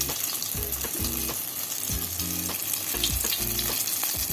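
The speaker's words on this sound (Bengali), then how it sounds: "ম্যারিনেশন কাটেগুলো দিয়ে ভালো করে ভেজে নিতে হবে।" Marinated chicken pieces for satay fry in hot oil with a steady, close sizzle, broken by repeated low clunks and knocks from the pan.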